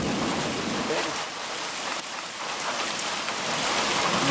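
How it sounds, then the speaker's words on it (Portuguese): Steady rain falls outdoors on a cattle drivers' trail, a dense, even hiss of drops hitting the ground that holds at the same level throughout. "Mais chuva?"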